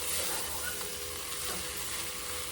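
Rice frying in a hot skillet while being stirred, a steady close sizzle with soft scraping, no talking.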